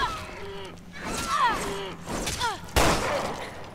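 Gunfire in the survival horror game Resident Evil Revelations 2, a few sharp shots with the loudest one near the end, mixed with game sounds and a voice talking.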